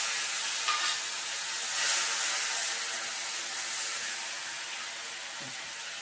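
Chopped tomato fries with spices in a pan, making a smooth, even sizzle that holds steady and fades slightly toward the end, with no talking over it.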